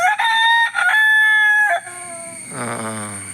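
One loud, nearby rooster crow with stuttering opening notes and a long sustained middle, followed by a quieter, lower warbling call as it trails off.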